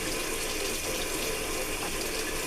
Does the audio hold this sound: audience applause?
no